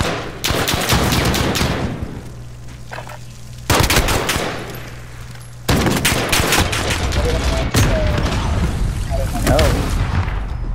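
Shotgun fire in Call of Duty: Modern Warfare, loud booming blasts and rapid shots in clusters over a rumbling match backdrop, with players talking over the action.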